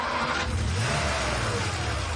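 A car engine revs and the car drives away, a mid-pitched rumble that stays steady and fairly loud for about two seconds, with no voices.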